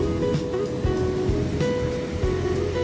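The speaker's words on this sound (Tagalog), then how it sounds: "Yung tunog ng alon ng dagat." Waves rolling onto the shore at a beach in Luna, La Union, heard as a constant close rushing roar of surf with low rumbling wash throughout, no voices present.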